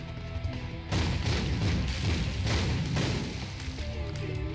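Bombs in The Binding of Isaac video game go off as a cluster of deep, booming thuds in quick succession, loud and close over a constant game background, with no talking.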